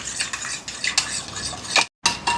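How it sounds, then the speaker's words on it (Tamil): A spoon stirs a yoghurt, jelly and custard pudding mixture in a bowl. Close, rhythmic scraping and light clinking strokes repeat, with a brief silent gap before stirring resumes. "நான் கரண்டியால் கலந்து விடணும்."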